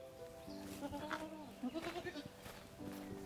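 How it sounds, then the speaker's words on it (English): Goats bleat repeatedly at a countryside barnhouse goat shelter, several wavering cries overlapping at moderate distance over a steady background hum. "now we are by the goats"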